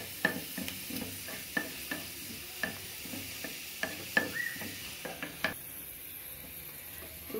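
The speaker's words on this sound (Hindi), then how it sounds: "अब इसमें बघार डाल के मिक्स करना है।" Baghar of browned onions sizzling as it is mixed into daal salan, a steady hiss broken by rhythmic spoon scrapes and taps against the pot, close and alone.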